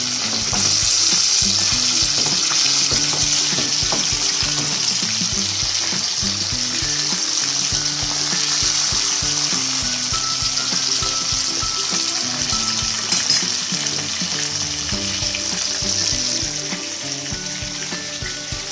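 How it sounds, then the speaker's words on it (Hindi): Fish frying in a pan of hot oil, a loud, dense and continuous crackling sizzle held close up, with faint stirring clicks that ease off slightly toward the end. "अब ये मछली फ्राई हो रही है।"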